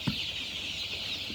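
Young chicks in a brooder, a single short soft cluck at the start and another faint one near the end, over a quiet background of low hiss.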